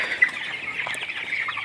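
Broiler chickens on a poultry farm cluck continuously at a moderate, close distance, with short overlapping calls and one sharper peck-like note.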